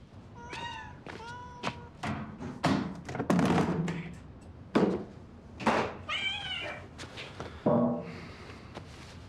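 A kitten about to be bathed meows repeatedly, with high, plaintive cries close by and spread across several seconds, mixed with occasional soft thumps and taps.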